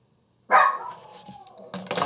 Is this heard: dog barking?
yes